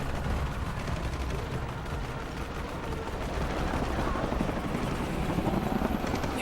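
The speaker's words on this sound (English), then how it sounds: "More helicopters." Helicopters in the video game Shadow of the Tomb Raider, a steady, loud rotor roar with dense broadband rumble, mixed with bursts resembling gunfire and battle noise throughout.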